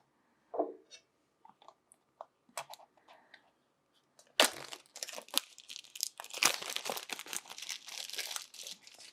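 Plastic wrapping on a Freewell UV filter box for a DJI Action 2 camera being opened, with faint handling clicks first, then loud close crinkling and tearing that keeps going.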